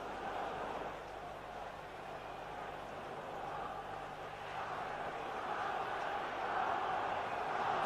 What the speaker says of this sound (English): Crowd boiling with excitement now